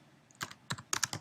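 Quiet computer keyboard typing arrives as three short bursts of quick key clicks, close and clear, with a silent pause between them.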